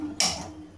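A gas stove being lit, one sharp mechanical click with a brief hissing burst of ignition, close and short, no voices.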